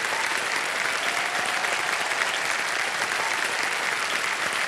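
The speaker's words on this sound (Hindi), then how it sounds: "तालियां बजती रहे इनके लिए।" Steady, dense studio audience applause on the set of the quiz show KBC (Kaun Banega Crorepati), loud and continuous throughout with no speech over it.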